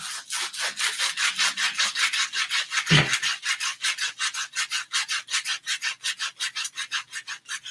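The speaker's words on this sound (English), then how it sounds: "I might be able to get away with using one piece of this sandpaper if I'm lucky." A piece of sandpaper rubs back and forth over the tip of a wooden piece, a close, steady rasping scrape repeated in quick even strokes, with one sharp knock partway through and no talking.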